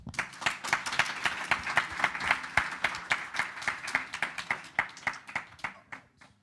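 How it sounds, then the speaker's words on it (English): An audience at a Modular Summit conference panel applauds, with clear individual claps layered into a steady round that swells and then tapers off over several seconds, with no talk. "let's give them a round of applause"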